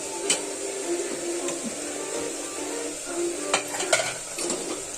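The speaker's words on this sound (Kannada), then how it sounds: "ಮೂಲಂಗಿ ಎಲ್ಲ ಚೆನ್ನಾಗಿ ಫ್ರೈ ಮಾಡ್ಕೊಳ್ತಾ ಇದ್ದೀನಿ." Radish pieces frying in a clay pot for radish saaru, a steady sizzle with a few scrapes and taps of a stirring spoon against the pot, close by with no talking.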